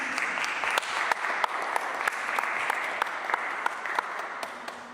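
Church congregation applauding an ovation in praise of the Lord, steady dense clapping from many hands filling the room for the whole stretch, with occasional louder individual claps standing out.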